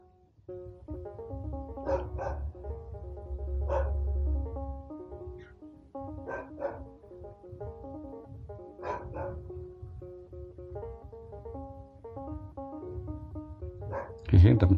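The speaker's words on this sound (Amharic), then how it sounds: "የውሻ ጩኸት እያስቸገረን ነው።" Two dogs bark in repeated, uneven bursts on an Addis Ababa street, fairly close, with someone talking over them throughout.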